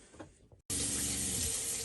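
Water rushes steadily from a tap in a Jayco caravan once the water pump is switched back on, a loud continuous gush starting abruptly after a brief quiet moment, close by.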